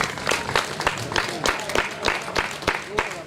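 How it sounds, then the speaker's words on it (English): An audience at a sponsorship signing event in Sierra Leone applauds to welcome a guest, with a thick spread of clapping and sharper individual claps standing out in a steady, fairly close wash. "Let us all give a round of applause as we welcome Mr. Francis Momo Kamara."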